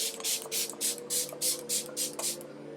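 A Fix Plus makeup setting spray is misted onto a face in about nine quick, close pumps, each a soft airy hiss in a steady rhythm.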